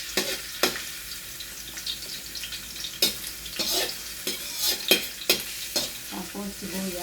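Garlic sautéing in hot oil in a pan for a pakbet, a continuous close sizzle punctuated by irregular spatula scrapes and stirring knocks, without speech.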